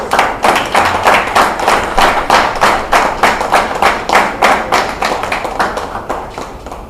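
A church congregation clapping in a strong, regular unison rhythm, roughly three beats per second, loud and close, gradually fading toward the end.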